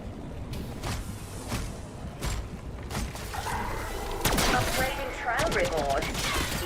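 Bursts of rapid submachine-gun fire from a C9 SMG in the shooter Black Ops 6, loud close shots in several short volleys over game background noise.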